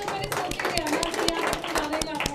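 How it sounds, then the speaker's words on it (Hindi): Audience at a motivational seminar clapping in an irregular burst of sharp hand claps, with voices talking over the applause throughout. "बस जोरदार तालियां।"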